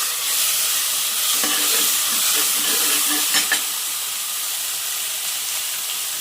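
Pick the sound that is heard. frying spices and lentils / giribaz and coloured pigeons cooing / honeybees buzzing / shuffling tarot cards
frying spices and lentils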